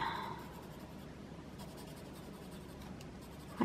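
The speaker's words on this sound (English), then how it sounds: "I just lay down a little bit of pencil." Colored pencil laid lightly onto paper, a soft, faint scratchy rubbing heard up close in a quiet room, with a brief louder knock at the very end.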